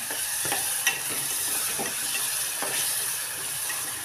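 Curd being stirred into spiced masala rice frying in a pot, a continuous loud sizzle and hiss with repeated scraping strokes of a spoon, close up and without talk.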